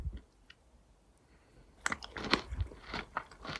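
Crunchy granola with chia seed jam and cacao nibs is chewed near the mic: a quiet pause, then a burst of loud, irregular crisp crunches and bites with no talking.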